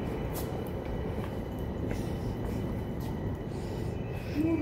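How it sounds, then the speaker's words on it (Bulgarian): Steady low rumble of an automatic, driverless metro train running, a continuous loud rolling hum with faint squeals, with no talking. "Това нашето метро е автоматично."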